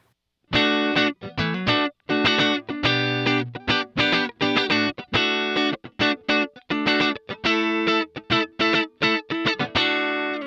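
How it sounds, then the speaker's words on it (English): Short, choppy funky electric guitar playing: rapid muted strums and clipped chord stabs in a steady groove, loud and dry, with no voices over it. "And for the short, choppy, funky stuff,"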